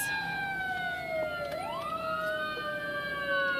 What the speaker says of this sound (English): Sorry, there's a ambulance.